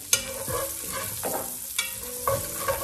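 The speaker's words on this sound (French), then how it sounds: "je vais venir rajouter mes échalotes, l'ail" Chopped shallots and garlic go into a hot pan and fry, a close sizzle with a sharp hiss as they land, scraping stirs against the pan, and repeated bursts of crackle.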